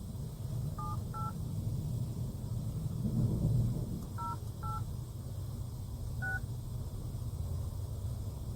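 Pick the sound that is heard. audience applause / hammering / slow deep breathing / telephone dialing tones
telephone dialing tones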